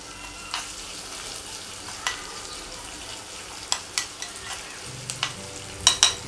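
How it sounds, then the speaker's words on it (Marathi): Green chillies frying in a little oil for a tempering, a soft steady sizzle punctuated by sharp crackling pops and spatters that grow more frequent toward the end, nearby with no voices. "मिरच्या थोड्याशा तेलामध्ये फ्राय होऊ द्यायच्या।"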